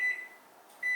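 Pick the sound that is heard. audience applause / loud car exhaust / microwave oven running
microwave oven running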